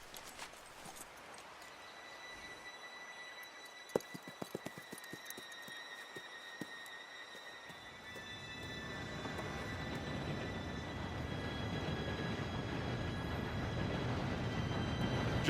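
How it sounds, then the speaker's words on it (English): A train arrives in the video game Red Dead Redemption 2: faint clicks and hoof-like clatter first, then a rising rumble of rail wheels with a high steady squeal, growing louder toward the end. "Train should be here any minute now."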